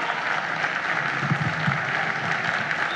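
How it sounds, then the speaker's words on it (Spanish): Audience applause at a stand-up comedy performance at a festival in Punta Arenas, Patagonia: a steady, loud wash of clapping from a large crowd that holds evenly for the whole stretch, with no talking over it. "y se aplauden ellos, está bien"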